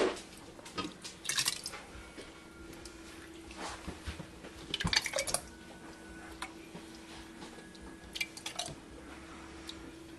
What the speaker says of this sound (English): I'll show you filling one jar